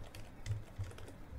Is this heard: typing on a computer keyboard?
yes